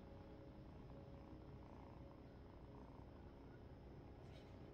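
A cat purrs steadily and closely, a soft continuous rumbling hum that is very quiet overall.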